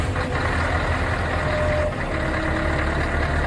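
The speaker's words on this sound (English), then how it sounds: "Dumper truck." Dumper truck engine idling loudly and steadily, a heavy low rumble with faint tonal whine and a brief hiss-like dip partway through.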